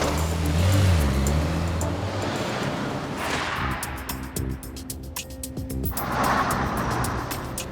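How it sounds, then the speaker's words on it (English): A car speeding in the outside lane of a motorway at around 106 mph, a loud continuous roar of engine and wind noise that shifts in tone partway through as it is followed at speed. "Here we go, outside lane. This car, 106 miles an hour."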